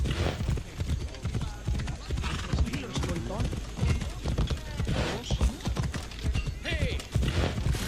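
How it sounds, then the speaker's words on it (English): Horse hooves galloping in a Ubisoft game trailer, a steady clip-clop rhythm running under loud overlapping talk and music throughout. "Thanks for the horse."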